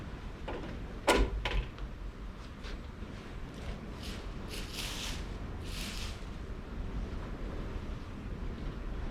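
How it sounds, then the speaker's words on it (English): Gusty wind outdoors buffets the microphone in a steady broadband roar, swelling in a few brief louder surges, with a faint knock early on and no speech. "It's very windy out, very gusty today."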